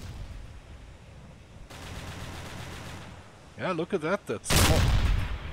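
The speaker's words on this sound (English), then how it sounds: "The gunners of the merchants are firing." Merchant ship gunners fire small arms at sea in Silent Hunter 3, a few sharp distant-sounding shots and a louder burst near the end, under a steady background rumble and a voice speaking over it.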